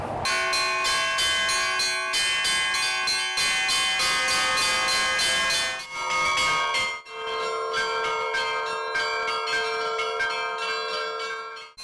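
Several of a church's twelve bells ringing together, loud and continuous, their tones overlapping in a steady peal with a brief pause partway through.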